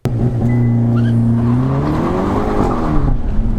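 A Hyundai Elantra N driven hard around an autocross course, its engine droning loud and close with steady revving pitch that rises and dips through the corners, continuous for the whole stretch.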